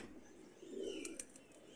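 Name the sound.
golden pigeon cooing in cage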